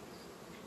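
Honey bees hum around the hive in the morning, a steady faint buzzing drone with no voices.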